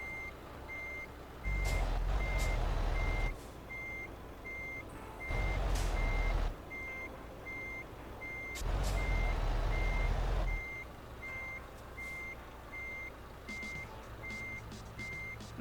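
A heavy truck in Euro Truck Simulator 2 shunting backwards and forwards, its steady reversing beeper pulsing at an even rhythm throughout while the engine swells in three separate bursts of low rumble, with faint clicks near the end.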